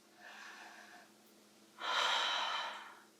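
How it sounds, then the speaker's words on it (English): Two slow, deep breaths during a yoga flow, a softer airy one followed by a louder, fuller exhale, close and otherwise quiet. "Deep breaths."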